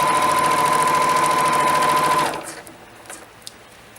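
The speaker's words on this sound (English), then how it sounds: "the sewing machine doesn't mind it at all" A sewing machine stitching through vinyl runs loud and steady for about two seconds, then stops, leaving a quiet room with a few faint clicks and soft handling noises.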